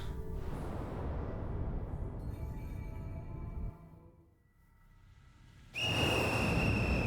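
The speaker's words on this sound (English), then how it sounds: "As the monstrous little raincoat visitor blows his whistle, he steps back into the shadowy darkness." A monstrous little raincoat visitor in Ghostwire Tokyo blows a whistle, a steady high-pitched tone that comes in near the end over a dense, loud game ambience.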